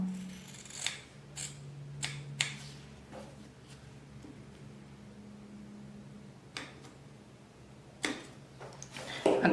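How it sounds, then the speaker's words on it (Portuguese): Scissors snipping through fabric along marked lines while making a sewing-craft pouch, a handful of sharp, close cuts spaced out over a quiet room with a low hum underneath. "Todos onde a gente riscou, a gente vai cortar."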